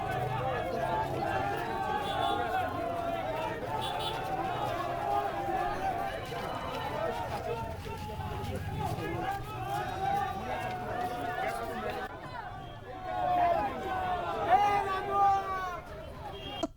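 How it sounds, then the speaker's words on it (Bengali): An angry crowd gathers at a college where police bring in a detained man, and protesters chant "thief, thief" amid a constant din of overlapping shouting voices, which swells louder toward the end. "ওঠে চোর চোর স্লোগান।"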